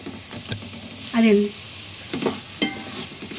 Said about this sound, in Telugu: 1 టీ స్పూన్ ధనియాల పౌడరు వేసుకుందాం ఫ్రెండ్స్.